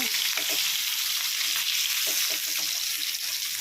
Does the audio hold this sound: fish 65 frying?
yes